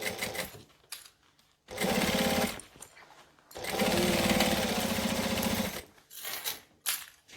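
A sewing machine stitches a fabric saddlebag in two long steady runs of rapid mechanical whirring, close and loud, separated by pauses with handling noise and short bursts.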